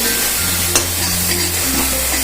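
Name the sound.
white sesame seeds added to onion, sizzling in pan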